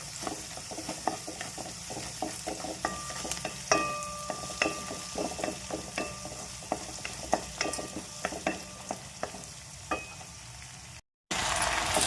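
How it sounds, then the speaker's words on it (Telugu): Malabar spinach greens being stirred and fried in a pan with lentils for a Telugu greens curry, a steady sizzle broken by repeated scraping and clinking of the spoon against the pan, close and alone. "ఆకుకూర వేసి చక్కగా కలబెట్టి కొద్దిసేపు ఉడికే వరకు ఉంచుకోవాలి."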